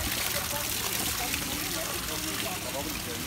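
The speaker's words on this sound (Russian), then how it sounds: "пока сейчас заполняют воду" Water pouring and trickling steadily as a tank is filled for releasing sterlet fry into the Volga River, a continuous broadband rush with faint voices in the background.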